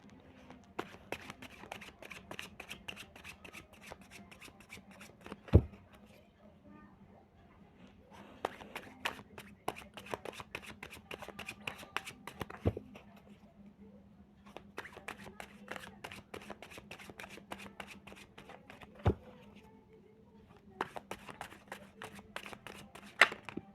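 Tarot cards shuffled by hand in four bursts of quick, crisp riffling, each separated by a short pause and punctuated by a few sharper taps, close up and fairly quiet.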